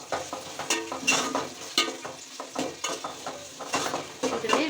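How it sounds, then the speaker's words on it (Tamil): Sliced onions and green chillies fry in hot oil for fish biryani, with a steady sizzle broken by repeated scrapes and clinks of a spoon stirring against the pan. "போட்டுட்டு வெங்காயம் வந்து நல்லா ஃப்ரை ஆகும்"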